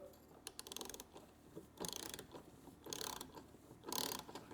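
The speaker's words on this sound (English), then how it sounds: "We put the socket on, just tighten it up." A ratchet socket tightens a spark plug in a Honda engine with rapid clicking, pausing and resuming in short repeated strokes, close and fairly quiet.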